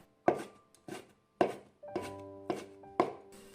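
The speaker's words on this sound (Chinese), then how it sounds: "放在案板上，用刀给它切碎， 尽量切得碎一点。" A kitchen knife chops food on a cutting board with about six distinct, firm thunks at an uneven, unhurried rhythm, each sharp and close with short quiet gaps between strikes.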